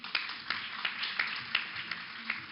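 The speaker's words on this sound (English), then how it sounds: "A huge round of applause" Sparse, faint applause from an audience at the India Today Woman Summit 2017, with a handful of separate claps spaced about a third of a second apart over a short stretch.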